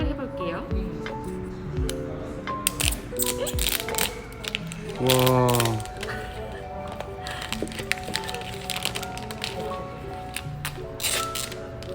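Plastic wrap peeled off a white 64GB iPhone SE 2nd generation box during an unboxing: close crinkling, crackling and tearing bursts with a louder rustle in the middle, while a person talks throughout.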